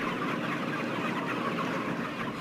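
Mass-produced chickens in a crowded indoor shed, a dense continuous wash of clucking from many birds at once, steady and fairly loud with no single call standing out.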